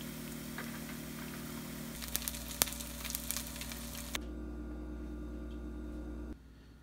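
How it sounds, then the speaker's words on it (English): Vegan benevolent bacon fries in a pan with a steady, faint sizzle and scattered crackles and pops, near and soft, with no talking; the sizzle then cuts away to quieter room tone. "So for this stuff, you just have to cook it for 2 minutes per side."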